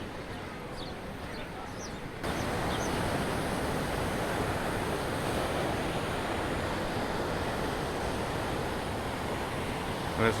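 Huge ocean waves crash and roar along a black sand beach in Tenerife, a steady, loud, broad surf wash that swells a little after the opening seconds and holds without pause, with wind over the microphone.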